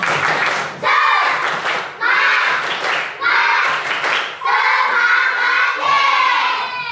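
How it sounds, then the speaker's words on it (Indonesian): A group of Indonesian schoolchildren in a classroom perform a tepuk semangat clapping chant, with bursts of rhythmic clapping mixed with loud shouted voices in several short phrases. "Anak-anak biar lebih semangat, coba tepuk semangat."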